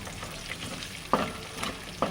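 A spoon stirs ginger paste and turmeric in a hot pan for an egg curry, giving soft scraping strokes over a faint sizzle, with a few sharper clinks against the pan, quiet and close.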